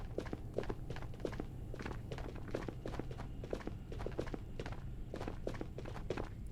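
Rapid, evenly spaced footsteps in the video game Ghosts of Tabor, crisp thuds repeating throughout at close range over a low ambient hum.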